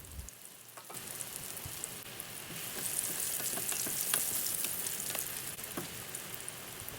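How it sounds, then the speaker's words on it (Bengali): Eggplant pieces fry in hot oil in a pan, a steady close sizzle and crackle that swells after the first second and keeps spattering with scattered pops. "আমি বেগুনগুলোকে একটু হালকা বাদামি রং আসা পর্যন্ত ওয়েট করবো"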